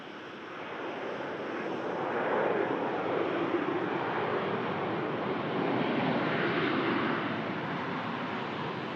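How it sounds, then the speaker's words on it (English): Jet2 Boeing 737 touching down on the runway at Manchester Airport, a steady broad roar of engines and rushing air that swells slightly, heard at a distance with no voices. "Jet2 73 touching down."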